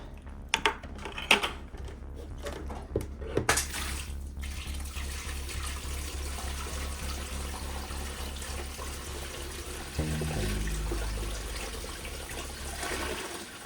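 Water pours steadily into a lizard enclosure fish tank, a continuous splashing rush with a few sharp clatters early on and a deeper gurgling surge near the end.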